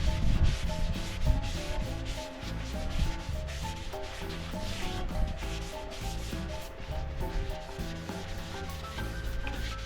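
Shellac sealer rubbed onto a piece of turned wood spinning on a lathe: a steady, loud friction hiss over a continuous motor hum, with no speech.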